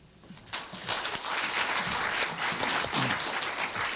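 Applause from a conference audience at Korea University starts after a quiet moment and builds into steady, dense clapping that fills the room and continues to the end.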